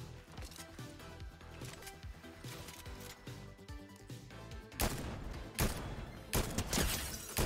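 A semi-automatic DMR rifle firing in a video game update, with loud repeated shots over busy game audio and music, the bursts heavier and denser in the last few seconds.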